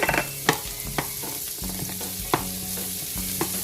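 Butter melting in the middle of a hot pan while goat stew is prepared, a steady close sizzle with repeated sharp clacks of a utensil stirring and tapping against the pan.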